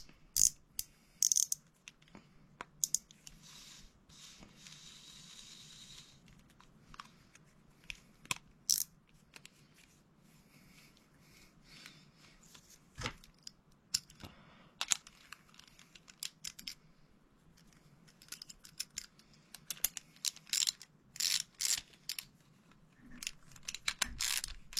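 Fishing reel drag clicking as the knob is turned both ways, with quick runs of small ratcheting clicks in bursts and pauses, close and fairly quiet, with no talk.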